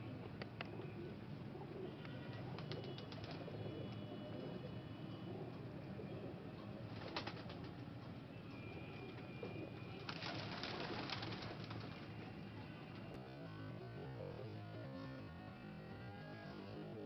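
Soft pigeon cooing repeats throughout over a steady background hum, with a few sharper clicks and flutters.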